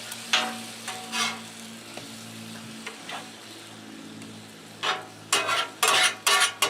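Honey-lime pork chops sizzle on a hot Blackstone griddle, a steady low frying hiss broken by sharp bursts of spatter and scraping as the chops are flipped, growing louder near the end.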